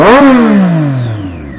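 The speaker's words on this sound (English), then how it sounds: "I'm here riding one of the best 600cc motorcycles in the world, the Triumph Daytona 675." A Triumph Daytona 675 motorcycle engine roars loudly and close, its pitch sweeping down steadily as the revs fall away after a high burst.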